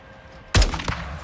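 A single loud, close gunshot from the player's weapon in Call of Duty: Modern Warfare 2, a sharp blast with a ringing tail and a fainter second crack just after, over a low ambient battlefield bed.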